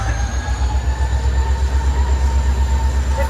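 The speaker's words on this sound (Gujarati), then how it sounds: "ટ્રેન ઉપડી ગઈ આપણે આવતા આવતા હતા" A train rolls on rails with a steady low rumble and faint high squealing tones throughout, loud and continuous with no voices.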